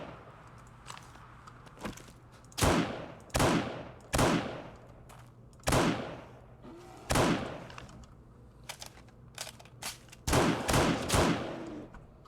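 Gunfire in a fight in 7 Days to Die: a series of loud, separate shots spaced a second or so apart, with a quick cluster near the end, over a low background hum.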